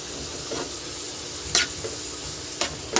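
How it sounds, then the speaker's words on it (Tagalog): Tomatoes sautéing in a pan, a steady soft sizzle broken by a few sharp scraping stirs of the utensil, close and moderate in level. "Ayan, igisa na natin ito. So, nilagay natin ating kamatis."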